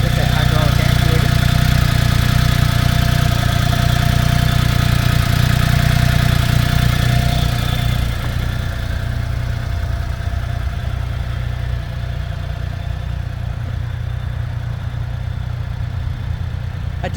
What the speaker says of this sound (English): There's your beautiful 3-cylinder engine with that hydraulic actuator.